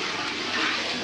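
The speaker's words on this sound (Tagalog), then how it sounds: "Dagdagan natin ng tubig." Water pours in to add to a soaking mixture, a brief, steady rushing splash close by.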